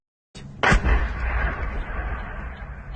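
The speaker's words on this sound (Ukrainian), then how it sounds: "Вибух неймовірного масштабу" A loud, distant blast booms suddenly, then a long rumbling roar lingers and slowly fades.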